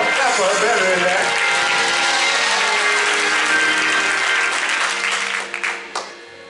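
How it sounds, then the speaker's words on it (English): Audience applause at a church men's conference, a dense steady roar of clapping that holds strong for about five seconds, then thins into a few scattered final claps. "Y'all clap her better than that."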